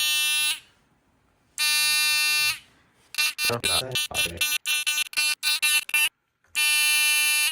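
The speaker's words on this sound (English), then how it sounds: "the alarm is about to go off, so let's see if it works" An electronic taser alarm clock blares in long harmonic tones, breaks into a rapid string of short beeps, then resumes its long tone, loud and close.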